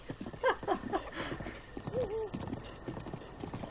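Hooves clip-clop in a quick galloping rhythm as a horse runs in Zelda: Breath of the Wild, with a short whinny early on, fairly close and distinct.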